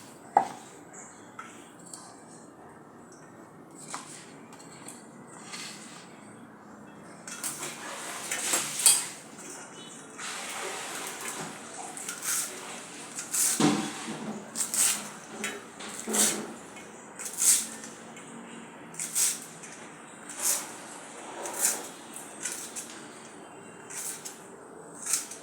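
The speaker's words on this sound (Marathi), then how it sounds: "कोथिंबीरीच्या काड्या कापून घ्याव्या लागतील" Coriander stems are sliced finely with a knife in a home kitchen while preparing vegetable cutlets, giving a series of light, close taps and clinks on a board, irregular at first and then more steady.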